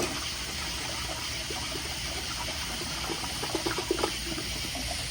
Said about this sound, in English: here's another flush, overfill tank with the handle held down